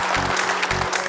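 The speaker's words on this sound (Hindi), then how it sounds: "जोरदार तालियां।" Family members clapping enthusiastically at a home gathering in a Hindi TV drama, a short dense burst of applause over a low background hum.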